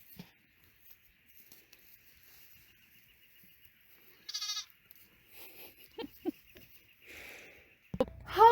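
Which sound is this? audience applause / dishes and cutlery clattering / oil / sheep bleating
sheep bleating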